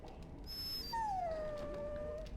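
A dog whines in the Dragon Age: Origins video game, a single drawn-out high whimper that slides downward and holds for over a second over a steady low game-ambience bed.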